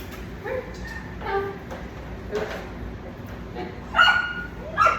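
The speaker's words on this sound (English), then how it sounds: "no barking." A dog gives several sharp, high yips and barks spaced a second or so apart, with a couple of louder barks toward the end.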